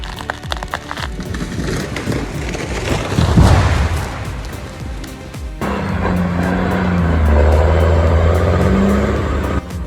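A logging truck's diesel engine churns and strains in mud, a loud rough roar that surges, drops, then settles into a steady lower labouring drone.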